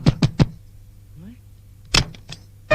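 Three sharp raps on a door, close and quick in succession, then a pause, then another cluster of knocks, with a faint squeak between them.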